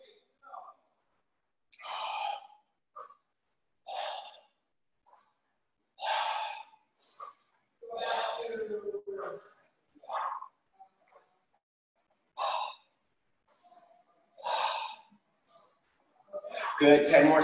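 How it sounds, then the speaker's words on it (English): Breath sounds from kids during a timed training exercise, short bursts of panting and exhaling spaced every second or two against near silence, close and moderately loud. "Make sure you're breathing."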